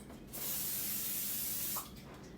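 Pam cooking spray hisses into a pan in one steady burst of about a second and a half, loud and close, with a quiet kitchen before and after.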